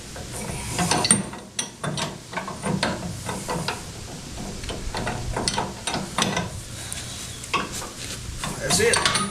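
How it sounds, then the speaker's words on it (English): A wrench turns the shaft to tighten a nut on a molder planer, producing repeated metallic ratcheting clicks and scrapes at close range over a low mechanical background. "The tool actually holds the nut, and you're turning the shaft."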